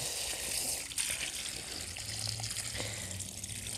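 Cold or warm tap water rinsing a K&N cabin air filter, a steady faint gush and trickle into a sink with no talk.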